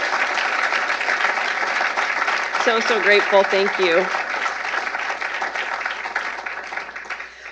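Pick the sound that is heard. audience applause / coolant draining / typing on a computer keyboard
audience applause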